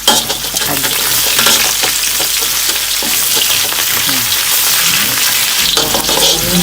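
Garlic, bay leaves and lime leaves sauté in a pan with a loud, dense, continuous sizzle and crackle, punctuated by occasional stirring scrapes, close to the listener.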